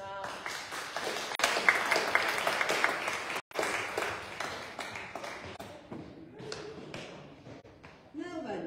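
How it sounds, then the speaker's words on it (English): A congregation at an all-age church service claps in a round of applause. The patter is moderately close and lasts several seconds before thinning into scattered claps and light room noise. "I think we need a round of applause for our"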